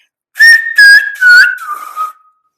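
Silbo Gomero, the whistled form of Spanish from La Gomera: four loud, clear whistled phrases in quick succession, the pitch holding steady then gliding down as they fade, with no talk around them.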